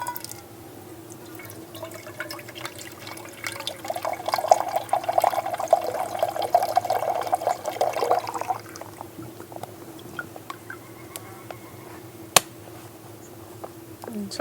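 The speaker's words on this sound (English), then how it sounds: "because that filter flows so well, I just squeeze it in." Water squeezed by hand through a camp water filter into a container at a canoe campsite in Algonquin Park, a steady close trickling and dribbling that runs for several seconds before stopping, leaving quiet outdoor ambience.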